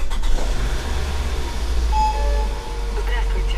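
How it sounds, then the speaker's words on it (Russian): A Toyota Ipsum engine idles with a low steady hum after starting while parked with the handbrake on, and a few short electronic chime tones sound partway through under nearby speech. "Все, заводим автомобиль."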